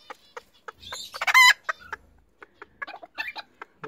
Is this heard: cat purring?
no